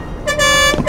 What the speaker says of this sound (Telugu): ఎలాగైతేనే బస్సు వచ్చేసింది